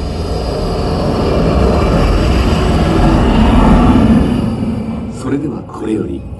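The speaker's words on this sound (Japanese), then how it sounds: "ジェットエンジンの大轟音も" A loud, sustained jet engine roar from an IMAX theatre intro, with a deep, broad rumble that holds steady, then drops away and wavers toward the end.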